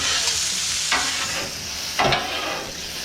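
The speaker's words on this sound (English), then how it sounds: "I'm going to give this meat another stir." Meat frying in a pan gives a continuous close sizzle, broken twice by louder scraping stirs.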